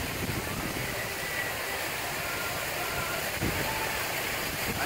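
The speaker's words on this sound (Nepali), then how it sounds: "यो नागरा फलको पानी बगेको" Water rushes steadily at the small Nagara waterfall, a constant broadband hiss that stays even and close throughout without pause.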